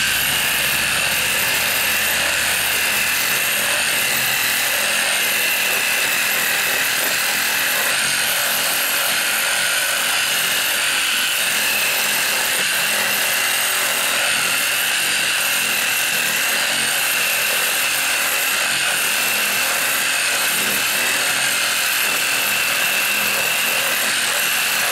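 A reciprocating saw (sawzall) cuts steadily through a wooden window ledge, a loud, continuous buzzing rasp that runs unbroken for the whole stretch with no talking.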